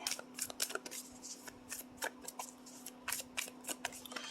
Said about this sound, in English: let's go ahead and let's get a Moonology Oracle card